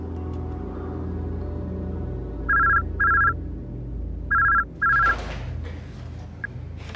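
An indoor telephone in the Turkish drama Innocence rings in two short double bursts of electronic tone, clear and close over a low background hum.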